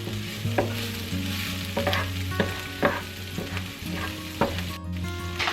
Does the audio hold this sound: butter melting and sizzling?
yes